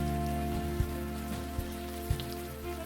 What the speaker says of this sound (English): standing here in the rain, guarding a wreck